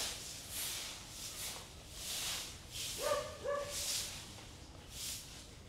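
Dogs barking in Siem Reap, Cambodia, a short burst of a few barks from a moderate distance amid street background noise.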